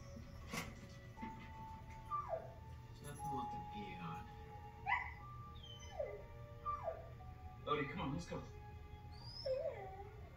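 A dog whimpers and yips repeatedly in a quiet indoor setting, its high whining cries rising and falling in short bursts, with a few soft howl-like notes toward the end.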